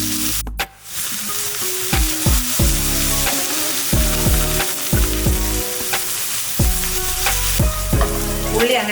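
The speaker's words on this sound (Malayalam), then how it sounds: "കറിവേപ്പില മൂപ്പിച്ച അതേ വെളിച്ചെണ്ണയ്ക്കകത്ത് തന്നെയാണ് നമ്മളതിന് അടുത്തത് സവാള ഇട്ട് കൊടുക്കുന്നത്" Three chopped onions sautéing in coconut oil with curry leaves, a steady close sizzle broken by repeated rhythmic scrapes and knocks of a spoon stirring the pan, with no voices.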